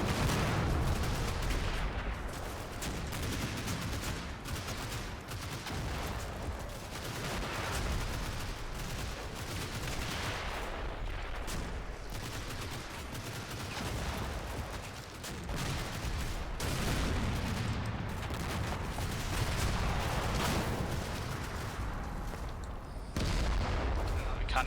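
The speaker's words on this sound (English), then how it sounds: "the 81mm mortars are just gonna, you know, I'm in a position to just shoot the absolute crap" Repeated 81mm mortar fire and explosions from Combat Mission, a dense, rumbling barrage of booms and blasts that runs continuously for over twenty seconds with no clear talk.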